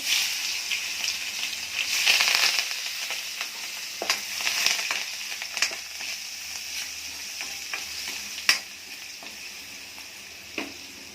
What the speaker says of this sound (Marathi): लसूण पहिलं टाकायचं.